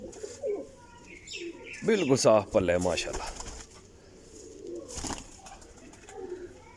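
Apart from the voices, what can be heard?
Kasuri Teddy pigeon cooing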